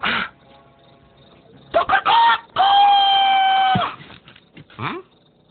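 A voice imitates a rooster crowing, with a long drawn-out call in the middle and shorter vocal bursts around it.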